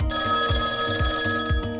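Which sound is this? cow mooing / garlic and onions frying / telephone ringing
telephone ringing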